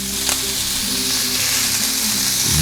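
Venison deer heart steaks sizzle loudly in a skillet, a steady close frying hiss with a brief spatter burst near the start and a faint clink at the end.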